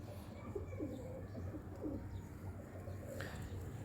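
A breeder pigeon coos nearby, soft low rolling coos repeating in a loose rhythm against a constant background hum.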